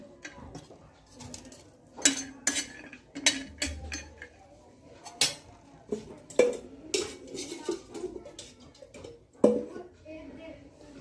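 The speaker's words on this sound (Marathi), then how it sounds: "आता आपण लगेचच खोबरं भाजून घेणार आहोत" Grated coconut roasting in a pan for a cauliflower curry, with a spatula clanking and scraping against the metal in irregular bursts over a quiet background, joined by a soft, muffled voice.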